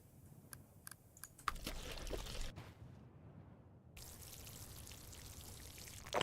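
Water pouring onto a grave plant in a graveyard simulator game, a steady splashing trickle running for a couple of seconds, then a brief quiet gap before softer gurgling resumes, with small tapping clicks early on.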